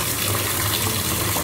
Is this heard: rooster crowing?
no